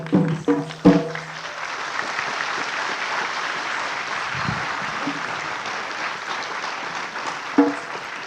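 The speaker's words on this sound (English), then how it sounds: "love the children who are clapping. Please keep clapping" Audience applause with children clapping at an inauguration event on a Bengaluru campus, a steady sustained patter of many hands with a few louder sharp claps near the start and end, a brief voice heard faintly early on.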